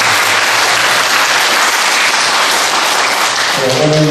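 Church congregation giving loud, vigorous applause during a year-end Sunday worship service, a dense roar of many hands clapping close and continuous, with a brief musical tone rising near the end.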